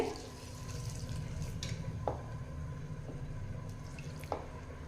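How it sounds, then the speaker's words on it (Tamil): Water pours steadily into a cooking pan of lentils and turmeric up close, a soft continuous wash broken by a few sharp drips and splashes. "ஒரு அரை டம்ளர் தண்ணி சேர்த்திக்கலாங்க"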